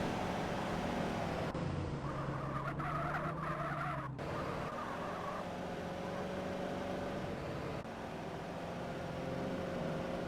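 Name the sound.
car motor sounds in GTA Trilogy Definitive Edition video game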